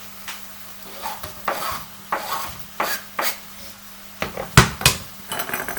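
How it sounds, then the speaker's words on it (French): Chopped bell peppers stirred into a frying pan of spiced vegetable curry, a spoon scraping in repeated strokes over a soft sizzle, close by, with a few clattering knocks near the end and no voices. "c'est maintenant que je vais pouvoir rajouter les poivrons que j'ai découpés"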